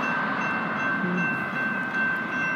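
MAX light rail train rolling through the 185th street crossing, a steady loud rumble with high steady tonal whine and rail squeal, close and continuous without voices.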